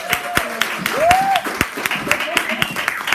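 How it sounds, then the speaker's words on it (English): Audience applause at a party, a short stretch of scattered clapping with distinct individual claps, while voices cheer and call out over it. "y'all give them a big round of applause."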